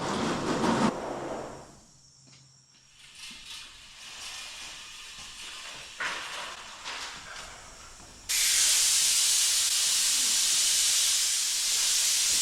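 Compressed air blown across the body panels of a 1967 Shelby GT-500 Mustang during bodywork, a loud hiss that fades briefly, returns in bursts, then becomes a strong continuous rush.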